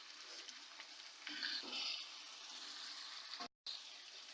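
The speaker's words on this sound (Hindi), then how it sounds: "इसको मैं अच्छी तरह फ्राई करूंगी।" Chicken liver and gizzard pieces fry in a pan with a steady close sizzle that swells briefly as they are stirred, then cuts out for a moment near the end, with no talking.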